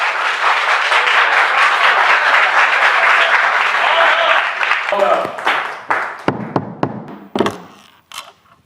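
A crowd in a courtroom applauds loudly and fills the room. After about five seconds the applause breaks into a few scattered, louder claps and knocks, then fades to near silence.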